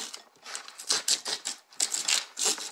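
A knife slices around the paper label of a new can, giving repeated close, crisp scratching strokes in an uneven rhythm with short pauses between cuts.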